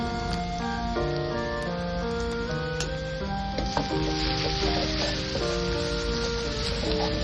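Onion, garlic and ginger fry in hot oil with a steady, close sizzle, heard under tuneful background music throughout.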